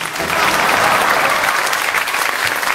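A theatre audience breaks into loud, sustained applause after a young girl's comic imitation performance, dense clapping swelling quickly and holding steady before tapering slightly.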